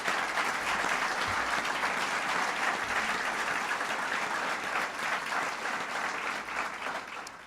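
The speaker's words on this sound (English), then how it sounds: "Please give him a big round of applause." Sustained audience applause at a presidential event on education reform, dense and even clapping that holds steady throughout with little crowd noise.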